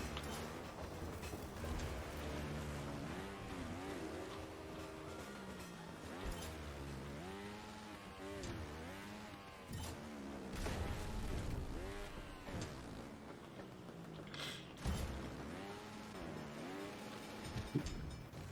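Motorcycle engines from the Trials Rising video game rev and whine continuously, rising and falling in pitch with bursts of throttle, loud and close, with occasional thuds and crashes.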